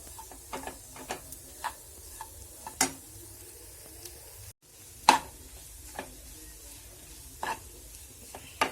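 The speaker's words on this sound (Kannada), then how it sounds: "ಸೊ ಅದನ್ನ ಇವಾಗ ಚೆನ್ನಾಗಿ ಮಿಕ್ಸ್ ಮಾಡಿಕೊಂಡು ಸ್ವಲ್ಪ ಹೊತ್ತು ಚೆನ್ನಾಗಿ ಫ್ರೈ ಮಾಡ್ಕೋಬೇಕು." Masala with sambar powder fries in a pan, giving a soft background sizzle broken by scattered clicks and scrapes of stirring, and no one speaks.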